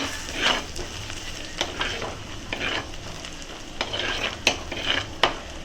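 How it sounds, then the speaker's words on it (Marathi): Fresh curry leaves fry in a pan for a Kerala-style mackerel curry, with a continuous sizzle and repeated stirring scrapes and occasional sharp spoon clinks on the pan, with no speech. "परत एकदा हलवून घेऊया, असं व्यवस्थित सगळं एकजीव करून घेऊया."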